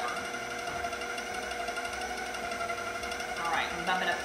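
An electric stand mixer beating softened butter and sugar for pound cake gives a steady, loud motor whir throughout, with a brief rise in pitch near the end as the speed is bumped up.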